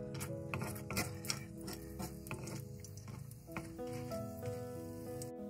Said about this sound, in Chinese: 开小火10毫升葵花籽油，煸炒香料20秒。